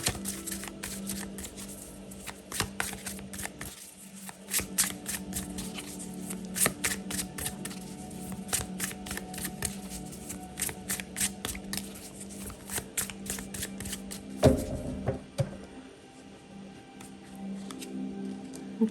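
Playing cards are riffled and shuffled for a tarot reading, a steady stream of quick papery flicks and snaps going on for the whole stretch, close and clear with no talking.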